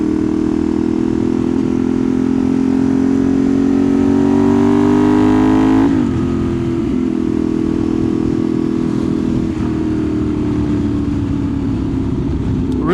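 A 2015 Ducati 848 EVO motorcycle engine while riding, a loud close droning roar that climbs in pitch, drops sharply at a downshift, then holds and sags again under wind noise.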